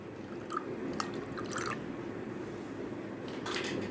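Water poured into a glass of fennel and cardamom sharbat makes a steady liquid trickle with a few small drips and splashes, close and fairly quiet.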